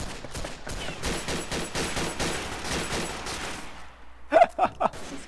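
Rapid gunfire from a Verdun World War I trench shooter game crackles in dense bursts for about four seconds. Then a brief pause, and a few louder, separate shots.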